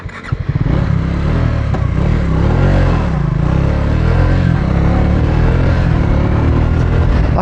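Adventure motorcycle riding on twisty forest roads in India with the mirror removed, its engine loud and steady throughout with varying revs and a constant rumble, brief clatter at the start.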